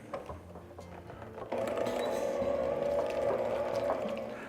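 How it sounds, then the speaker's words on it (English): An electric hand mixer blends jalapeno popper dip ingredients in a bowl, starting with faint clatter and then settling into a steady, close whirring hum that continues to the end with no talk. "We're gonna combine all this together using our mixer."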